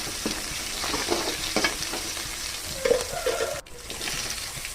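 Chopped vegetables for beetroot poriyal sautéing in a pan, a steady sizzle with soft spoon stirs and scrapes, close and even, without speech.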